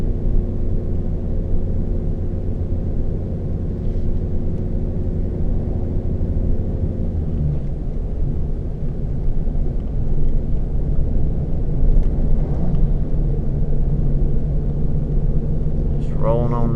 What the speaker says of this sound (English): Rolling on down the mountain right now.